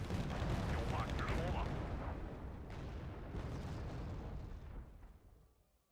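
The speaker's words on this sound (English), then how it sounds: "they're starting to hit me with artillery" Artillery shells landing on units in the real-time strategy game Wargame: Red Dragon, a dense, continuous rumble of booms and bursts with crackling impacts. The barrage holds steady for several seconds and then fades away at the end.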